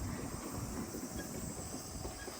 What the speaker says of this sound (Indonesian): Itu suara kereta teman-teman.